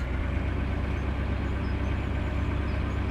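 A heavy truck engine in Farming Simulator 17 idles with a deep, steady, loud rumble and a slight knocking pulse, continuous and close, no voices.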